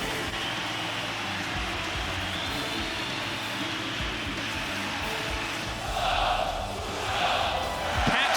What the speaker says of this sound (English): The crowd is so excited.